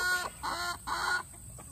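Chickens cluck in a backyard coop run, a few birds giving repeated close, moderately loud clucks in three short bursts with quieter gaps between.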